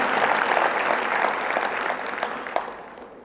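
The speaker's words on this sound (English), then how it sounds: "you can go ahead and clap because I'm glad that I was chosen" Audience applause fills a hall in a steady wash of clapping that slowly fades toward the end, with no voices over it.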